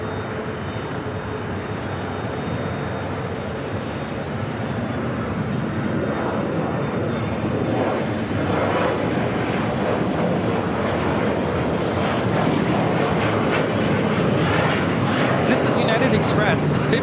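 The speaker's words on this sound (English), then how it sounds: "Express 5359 taking off to Austin on E175." An Embraer E175 regional jet takes off at Los Angeles airport, a broad engine roar swelling gradually over a long stretch, with some wind noise on the microphone.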